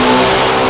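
A Corvette C8 ZR1 fitted with added throttle bodies, running untuned on a dyno, revs loud and close with a steady, sustained engine drone through the brief moment.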